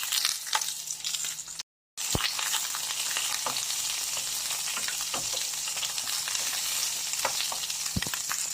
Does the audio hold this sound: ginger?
yes